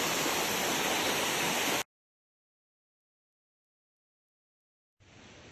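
Mountain waterfall on a trek near Manali, India, a loud continuous rushing roar of falling water close by, cutting to silence and then returning more faintly.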